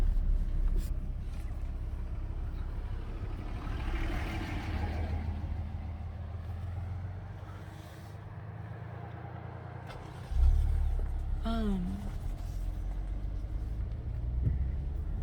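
A car drives down a canyon road, its engine and tire noise a steady low rumble that lifts briefly as it accelerates, with a short chirp heard over it.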